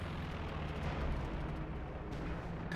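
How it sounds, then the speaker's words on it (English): Dense, continuous rumble of an artillery barrage in a World War II tank battle game, with repeated overlapping booms forming a steady low roar for a few seconds, no voices. "Still a devastating barrage here, you could say."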